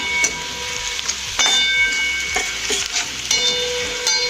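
Ginger and garlic fry in a hot pan, giving a steady sizzle while a spoon stirs them, with several sharp clinks and scrapes against the pan at irregular intervals.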